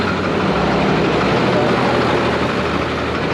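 A Ford 6.4 Powerstroke diesel truck engine with a fault runs steadily at close range, a loud, continuous low rumble and clatter with no pauses.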